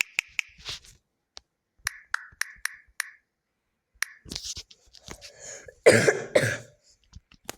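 A person coughs repeatedly in short, sharp bursts with pauses between them, ending in a louder cluster of harsh coughs and throat clearing, close and clear in a quiet room.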